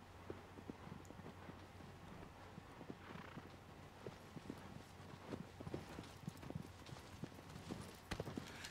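Horse hooves in Shadow of the Colossus clip-clop in a steady, continuous run over a low game drone, with sharper hoofbeats toward the end.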